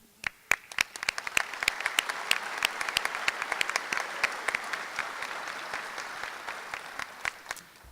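Applause for nursing graduates at a spring pinning ceremony: a medium-sized audience claps steadily, sharp individual claps standing out over a dense, even patter that carries on at moderate volume throughout.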